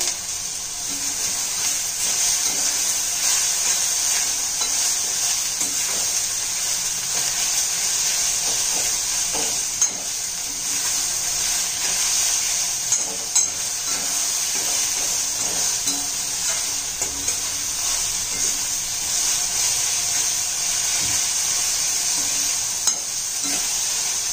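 Tomato, onion and coriander sauté in a hot kadhai with a steady, close sizzle and hiss, broken now and then by soft scrapes and taps of stirring.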